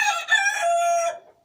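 A big rooster kept in a hutch crows once, a loud, close, drawn-out call that fades out abruptly after about a second, heard alone with no talk.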